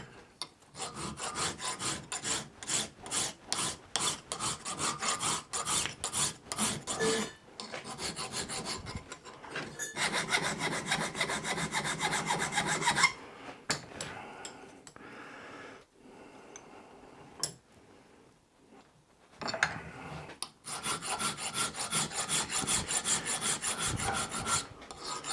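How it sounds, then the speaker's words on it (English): A hand file rasps in quick rhythmic strokes across metal while new jaws for a vise are shaped, close and dry, in bursts separated by pauses and a long quieter stretch before the strokes resume. "Does you good now and then to do a little bit of filing, do some new jaws in the vise."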